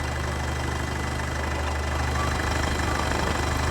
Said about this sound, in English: engine seems to be good